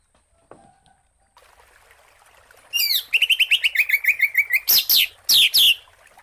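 An oriental magpie-robin (murai batu) starts after a quiet stretch with a loud, close run of rapid repeated bright chirps, then several sharp sweeping calls separated by short pauses, heard alone with a faint trickle of water underneath.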